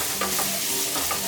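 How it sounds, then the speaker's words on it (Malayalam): Chopped onions, shallots and green chilies frying in oil while being stirred for a Kerala-style mirchi chicken roast, a steady close sizzle with a few soft scraping strokes of the spoon, no voices. "ഉള്ളി, സവാള, പച്ചമുളക് അരിഞ്ഞാണിത് ഇട്ട് കൊടുക്കാം. നന്നായിട്ട് ഇളക്കി കൊടുക്കുക."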